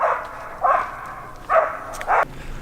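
A dog barks outdoors beside a lake, three or four loud, close barks spaced about a second apart, with quiet breaks between them.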